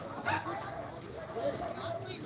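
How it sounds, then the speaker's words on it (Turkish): German shepherd dogs at a competition give short yips and bow-wow barks amid scuffling, close and moderately loud, with people talking nearby. "Ufak tefek sürtüşmeler oluyor tabii köpekler arasında."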